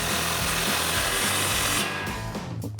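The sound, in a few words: 16mm socket tightening an exhaust crossover pipe clamp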